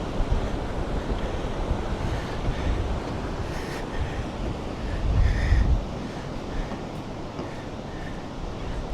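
Ocean waves break steadily on a beach where a few people are fishing and lying in the sun. The surf is a continuous loud wash with a heavier surge midway, roughened by wind buffeting the microphone.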